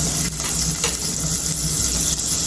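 Garlic being sautéed in a hot frying pan for a Filipino home-cooked dish: a loud, dense, close sizzle running steadily throughout, with faint stirring scrapes.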